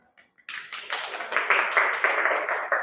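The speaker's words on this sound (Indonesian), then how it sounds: "Oke, tepuk tangan." A classroom of students breaks into brief group clapping after a near-silent start, a dense patter of hands that builds and holds for a couple of seconds at moderate volume.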